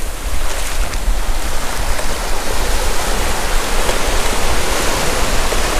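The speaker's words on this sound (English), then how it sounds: "Just listen to the sound of the ocean." Steady, loud rushing of ocean surf at Trunk Bay fills the scene, a continuous wash of breaking waves with no voices.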